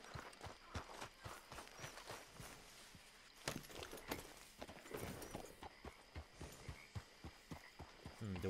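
A horse's hooves clip-clopping in a steady walking rhythm in a video game, faint and close, with soft background noise and occasional heavier thuds.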